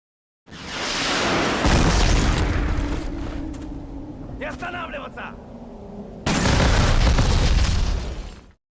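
Video game RPG rocket blasts: two heavy, loud booming explosions with a long rumbling tail between them, close and filling the mix, no talk.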